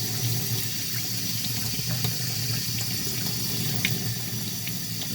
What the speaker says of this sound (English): So we're going to turn on this water and rinse her off.